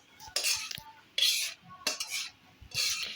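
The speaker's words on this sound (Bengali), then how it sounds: "এখন আমরা এখানে মাংসটা দিয়ে দিচ্ছি" Pieces of chicken are added to a pot of rice for biryani and stirred with a metal utensil, producing several sharp scraping and clinking bursts separated by short pauses, close and moderately loud.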